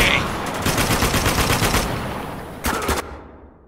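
Mounted turret machine gun firing in the video game Spec Ops: The Line: a long, loud sustained burst of rapid rounds, a short pause, then a brief second burst before the sound cuts off.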